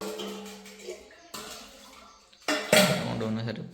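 A few short bursts of water being scooped or poured for face washing, with light clatter of a container, separated by quiet gaps.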